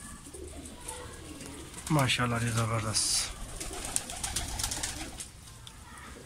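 Pigeons cooing at feeding time, several close throaty coos bursting in around the middle with a little wing flutter, while someone speaks briefly over a soft background hum.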